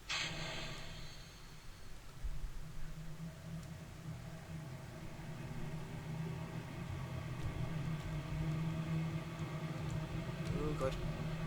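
Rocket engines roaring at full throttle in Kerbal Space Program, a steady broadband rumble that holds loud and constant throughout, with a faint voice at times underneath.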